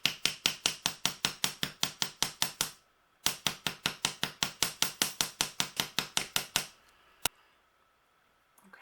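Rapid metallic hammer blows flattening wire on an anvil, ringing in two quick, even runs of strikes, a short pause between, then a single sharp tap and quiet.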